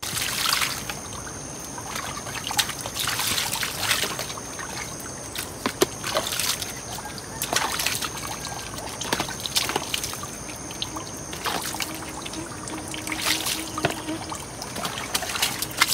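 Tap water trickles from a faucet beneath a rural hut, with a steady splashing stream, intermittent drips and sloshes, and loud bursts as items are rinsed close by.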